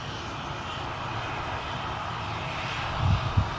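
Airliner engine noise at Manchester Airport, a steady broadband roar held throughout with a couple of brief low bumps near the end, no voices present.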